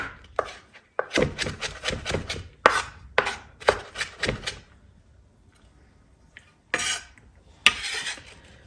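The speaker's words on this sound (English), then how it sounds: "All right, so I'm just going to cut it" A knife chops food into tiny pieces on a board, bursts of fast, crisp close taps in quick runs separated by short pauses and near silence.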